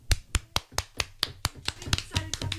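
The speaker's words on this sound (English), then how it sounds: "Everyone give a clap" A small group claps hands in a close, sharp rhythm of about a dozen claps, growing slightly denser toward the end, with a voice briefly speaking in the background.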